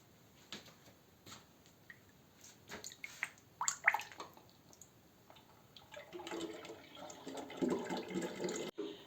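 Boiled sugar syrup pours into a large bottle of homemade grape juice for wine, with scattered clinks and handling first, then a louder, steady gurgling pour near the end.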